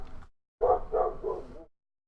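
A dog barks nearby in the background: one short bark followed by a longer, wavering bark-whine of three pulses, with silence in between.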